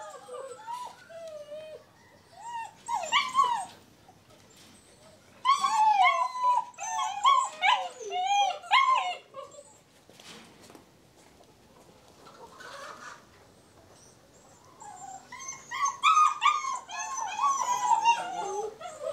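Imported German Doberman dogs in kennels whine and whimper in high, wavering bursts with occasional yelps, coming in three clusters separated by quieter stretches, fairly close.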